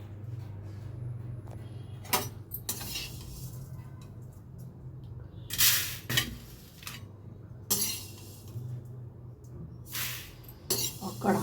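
Fried food is lifted out of a hot kadhai onto a metal plate, with several sharp metallic clinks and scrapes spaced irregularly over a low steady hum, close and fairly loud.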